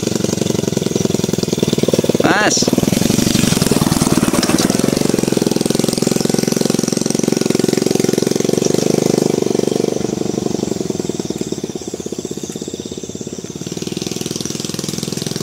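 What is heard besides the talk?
motorcycle engine on a narrow rice-field path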